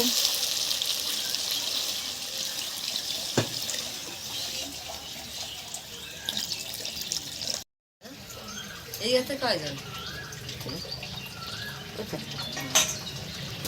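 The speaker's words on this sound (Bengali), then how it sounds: "ঝোলটা আমার ফুটে গেছে" Egg curry gravy bubbling and sizzling in a pan, a steady hissing simmer with occasional stirring clinks, heard under talking voices throughout.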